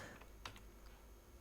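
Computer keyboard keys pressed for a Control X shortcut, two or three soft quick clicks close by over a faint steady hum, no talking.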